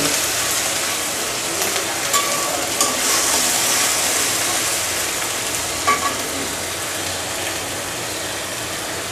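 Onion paste hits hot oil already holding blackened fried chilies, throwing off a loud, continuous sizzle that stays even throughout, with a few faint clinks from the pan.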